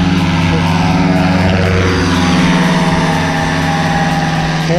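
A paramotor engine runs at full throttle during takeoff, a loud steady propeller drone with a constant harmonic whine through the whole stretch while the pilot runs.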